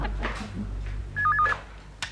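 Telephone tones from a Hindi TV serial scene: a short warbling electronic ring pattern sounds midway, framed by soft background ambience and a brief knock-like click near the end, no speech.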